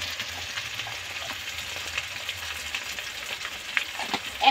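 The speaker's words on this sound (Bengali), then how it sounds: "আদা রসুন তো দিয়েই দারুণভাবে ভেজে নিলাম, খুব দারুণ ফ্লেভার বেরিয়েছে।" Ginger and garlic frying in hot oil in a pan for a spicy crab curry, a steady close-up sizzle with occasional crackles and stirring scrapes, continuous and unaccompanied by talk.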